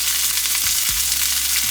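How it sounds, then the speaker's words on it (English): Asparagus sautéing in very hot oil in a pan, a dense, loud hiss of sizzling with a couple of low thumps as the spears shift, brief and near, no voices. "My oil is super hot. Just gonna get our asparagus in the pan."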